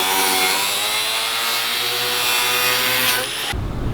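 A power tool cutting through hard vinyl wrap on a carbon fiber mirror piece for an E36 M3 mirror install, whining at a steady high pitch close up, then cutting off abruptly near the end.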